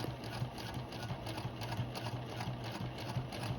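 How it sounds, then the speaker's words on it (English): A sewing machine runs a steady top stitch, a close, even mechanical whir with a rapid rhythmic clatter throughout. "And we're just gonna top stitch all the way down."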